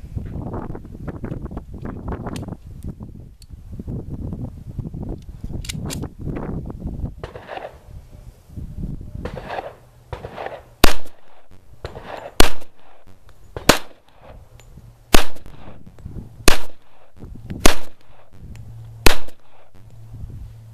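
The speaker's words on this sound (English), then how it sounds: "We're going to put some big old 45 caliber holes right through him." Wind buffets the microphone for several seconds before seven sharp, evenly spaced shots from an M1911 A1 .45 caliber pistol crack out at a target outdoors, each a loud, separate report.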